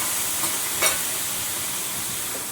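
Water sprinkled onto a hot griddle before making a spinach dosa gives a steady, moderately loud hiss and sizzle, with one brief sharper burst near the start, alone with no voices.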